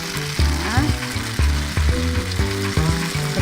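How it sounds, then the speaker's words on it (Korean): Vegetable-filled dumplings pan-fry in a pan with a loud, steady sizzle, joined by rhythmic tonal sounds that pulse roughly every half second. "점점 이제 군만두가 익어갈수록 안에 있는 이제 나물들의 모습이 쫙 드러나네요."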